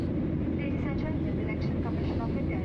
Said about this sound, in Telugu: ఇది మబ్బుల పైన ఈ ఫ్లైట్ ప్రయాణిస్తుంది